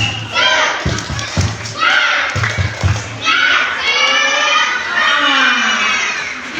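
Children on an educational visit to an army battalion in Bekasi chant loudly together, punctuated by a few sharp, rhythmic group claps, their shouted voices filling the space.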